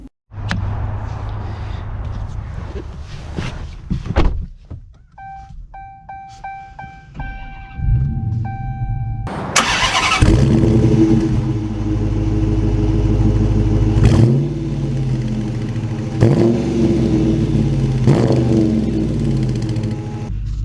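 A 2023 Dodge Challenger R/T with a manual gearbox starts up after a few clicks and chimes, its engine catching with a loud burst and then pulling away, revving through gear changes close by.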